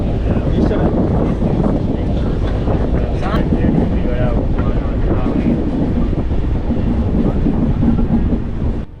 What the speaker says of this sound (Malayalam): മഹാരാഷ്ട്രയിലെ രത്നഗിരി റെയിൽവേ സ്റ്റേഷനിലേക്കാണ് വണ്ടി ഇപ്പോൾ എടുക്കുന്നത്.